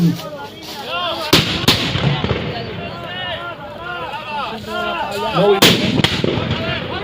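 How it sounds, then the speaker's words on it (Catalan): Grenades launched from a bastion during a siege reenactment at Tortosa, heard as several loud, booming blasts at irregular intervals, close by, with voices talking and shouting throughout. "Continua el llançament de granades des del baluart."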